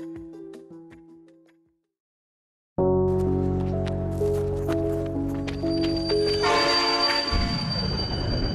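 A train rolls past after a moment of silence, a loud rumbling rush of wagons with metallic clanks, squeals and rattling wheels building and continuing close by, with no talking.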